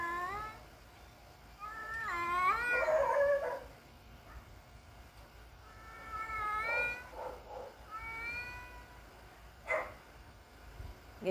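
A cat meows near a kitten, giving a few drawn-out, wavering cries in clusters with quieter gaps between them, close and fairly clear against a soft background.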